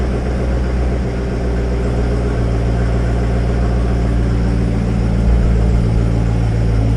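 A 2019 Corvette C7 Z06 with the Z07 package idles in regular mode, its engine a deep, steady, rumbling drone that stays loud and close throughout with no speech over it.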